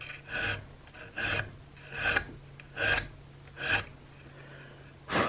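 A file rasps a chamfer along the curve of a wooden rifle stock for an Investarms Gemmer Hawken build, with about seven evenly spaced, close, gritty strokes and quiet gaps between them.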